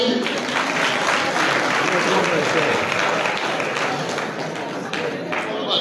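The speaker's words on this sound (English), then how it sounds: "please clap for him" A crowd at an at-risk youth empowerment graduation ceremony claps for a graduate: thick, continuous applause holding loud and close throughout, with voices mixed underneath.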